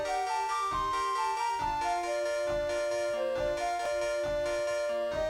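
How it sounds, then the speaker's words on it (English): Distorted, mangled rendition of the Lost Woods melody playing as background music in a Shrek video game, a steady looping tune with a bright wavering lead line over a pulsing beat, continuous and moderately loud with no voices. "the next area that Shrek travels to has a new piece of background music which sounds like this."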